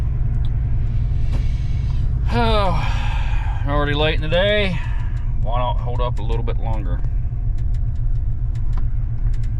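Heavy stop-and-go interstate traffic heard from inside a truck, a steady low engine and road rumble running the whole time beneath someone speaking.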